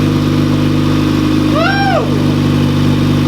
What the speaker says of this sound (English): Let it idle for a second.